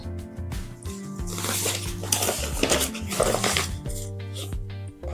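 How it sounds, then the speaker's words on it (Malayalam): A spoon clinks and scrapes against a pot as yogurt and lemon juice are mixed into chicken biryani masala, a busy run of close metallic stirring without speech. "രണ്ട് ടേബിൾ സ്പൂൺ തൈരും ഒരു നാരങ്ങയുടെ നീരും ചേർത്ത് മിക്സ് ചെയ്യാം"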